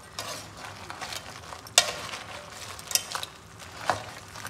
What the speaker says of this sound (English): I'm gonna give it one last stir.